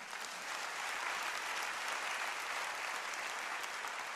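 A church congregation applauding, a steady wash of many hands clapping together, sustained and even throughout without a break.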